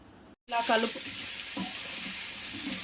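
Cut banana pieces hit hot oil with crackling tempering seeds, giving a sudden burst of loud sizzling after a brief silence that then settles into a steady close fry with a spoon scrape.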